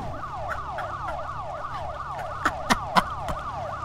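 A wailing police siren in the video game Need for Speed Most Wanted sweeps up and down repeatedly at a steady pace, with a few sharp clicks near the end.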